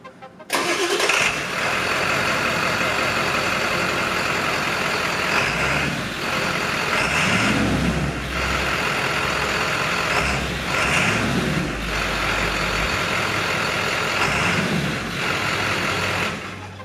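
Ford 7.3L Powerstroke diesel truck idling with the muffler removed, a loud, steady, close rumble that holds throughout, with a few slight swells in engine note.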